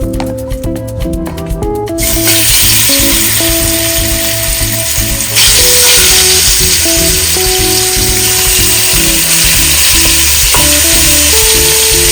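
Seasoned ribs drop into a hot pot and burst into a loud, steady sizzle and crackle, with clinks and scraping from stirring at the start and a fresh surge of sizzling partway through.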